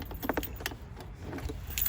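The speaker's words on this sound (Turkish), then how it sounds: "Anahtarı çıkardık bu şekil." Keys jangle in short metallic clinks as the ignition key is pulled from an RKS Newlight 125 cc scooter, close and fairly quiet.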